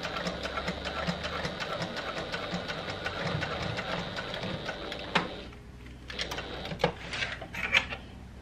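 A Janome HD9 sewing machine runs steadily while top stitching, a rapid even mechanical patter for about five seconds, then stops, followed by a few quiet handling clicks and rustles.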